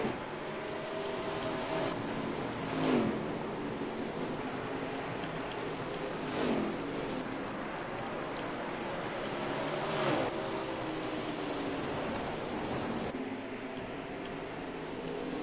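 Dirt late model race cars roar around a dirt track in a touring series race, a steady engine drone with several louder passes swelling up and fading, no voices.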